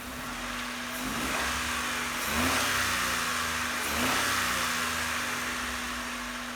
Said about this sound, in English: This 24-year-old Honda with a crazy amount of goofy crap disconnected seems to run fine.